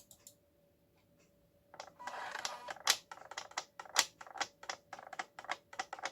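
An old storage device from long-term storage clicks and ticks in a rapid, irregular run after a quiet start, the sharp close clicks bunching densely like typing.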